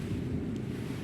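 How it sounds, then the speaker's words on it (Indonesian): Steady wind roars and buffets the microphone outdoors while fishing for tawes (silver barb) during the windy season, a continuous low rumble with no voices. "Banyak kesulitan ya mancing di angin gini ya."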